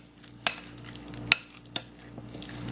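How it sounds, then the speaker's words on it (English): Spoon stirring mayonnaise and condensed milk into a chicken sandwich spread, three sharp clinks against the bowl over a faint steady hum, no talking. "we're just going to mix the mayonnaise and the condensed milk with the rest of our ingredients"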